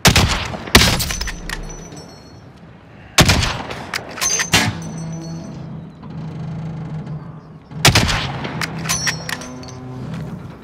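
Call of Duty Warzone gunfire: loud, close bursts of rapid shots in three clusters, each with sharp cracks and ringing metallic tails, separated by quieter stretches of game ambience.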